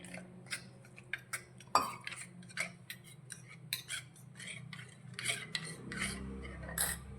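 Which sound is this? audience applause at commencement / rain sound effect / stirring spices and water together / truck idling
stirring spices and water together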